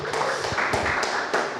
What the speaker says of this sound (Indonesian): beri tepuk tangan untuk Ustadz Salicen.